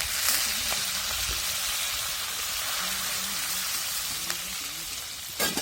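Curry leaves and coriander are tempered in hot oil over a wood-fired stove, raising a loud, steady hiss and crackle that fills the whole stretch, with faint voices in the background.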